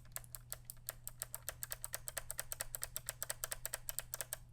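A Gamdias Hermes P3 RGB mechanical gaming keyboard is typed on in quick, even succession, a run of about thirty crisp, close key clacks over a low steady hum.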